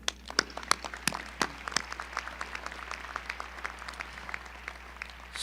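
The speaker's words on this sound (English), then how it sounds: "Let's clap again for." A medical school commencement audience applauds, starting with a few loud, distinct claps that give way to steady, fainter clapping spread across a large room over a low hum.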